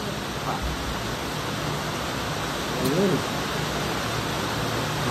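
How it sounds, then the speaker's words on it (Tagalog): Heavy rain pours down in a steady, dense, loud hiss that fills the whole stretch without a break, while a voice speaks briefly over it. "Sobrang lakas po ng ulan dito"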